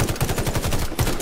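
Rapid automatic fire from a grey-rarity default assault rifle in Warface, a steady close burst of evenly spaced loud shots running the full length without pause.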